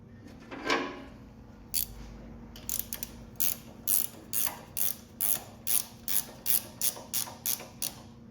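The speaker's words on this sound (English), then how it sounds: "we're going to put our drain plug back in" Drain plug threaded back into a Simpson or DeWalt pressure washer pump, a steady run of about a dozen short, crisp ratcheting clicks with an earlier metallic clatter, close up and with no talking.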